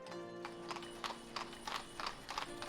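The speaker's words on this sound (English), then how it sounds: "And you hear all those horses clippity-clopping everywhere" Horses clip-clop across cobblestone streets in the village-building game Ostriv, a steady, overlapping patter of hoofbeats with an occasional whinny over a continuous town ambience and soft background music.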